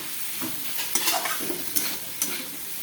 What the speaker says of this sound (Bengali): আর এখানে যে বড়া ভাজা হচ্ছে, আলু দিয়ে বড়া দিয়ে ডালনা।